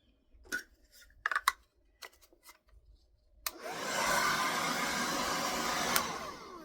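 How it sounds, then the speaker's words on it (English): A hair dryer starts up partway through, on medium heat and high airflow for a silk press, after a few soft handling clicks and taps, then runs as a loud steady whoosh to the end. "I'm going to blow dry my hair."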